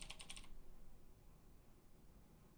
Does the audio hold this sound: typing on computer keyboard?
yes